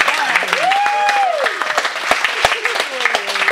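An audience at a comedian's comedy show claps steadily through a full round of applause while a voice keeps talking over it.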